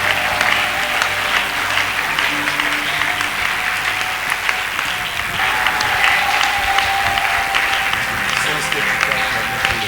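Large church congregation at a Christian convention applauding and cheering for a long stretch, a thick, steady wash of clapping hands from a big crowd with a faint sustained tone and voices mixed in beneath.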